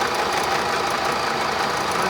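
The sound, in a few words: Austin Healey overdrive transmission running on test rig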